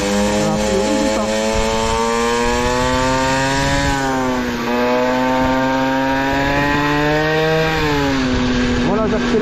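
A scooter engine accelerates at about half throttle, a loud, steady buzzing drone with many harmonics that climbs in pitch, holds, then rises again, continuous throughout.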